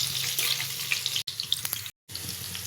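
Cumin seeds and green chilies fry in oil while a fish curry is being prepared, giving a bright, steady close sizzle with scattered crackles, briefly cut off by a silent gap.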